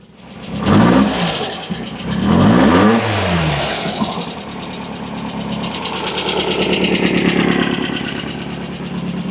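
A VW-powered sand rail engine revs twice in sharp, loud bursts, then settles into a rough, steady idle that rises slightly toward the end, close up, with no talk.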